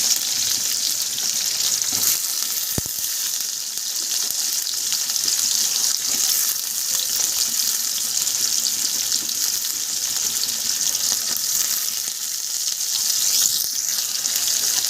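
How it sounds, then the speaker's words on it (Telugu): Onions fry in hot oil in a pan, giving a constant, even hiss of sizzling that holds at a steady close level for the whole stretch, with one brief sharp tick and no speech. "బాగా ఆనియన్స్ వేడెక్కి బాగా కలుపుకోవాలి ఇవి చక్కగా వేగుతున్నప్పుడే"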